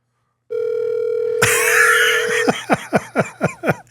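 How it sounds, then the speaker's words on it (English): A telephone call tone sounds: a steady, loud tone lasts about two seconds, then a run of short, choppy pulses follows, heard close and alone. "Phone is ringing."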